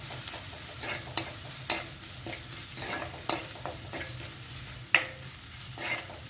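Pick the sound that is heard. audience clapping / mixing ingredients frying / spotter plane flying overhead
mixing ingredients frying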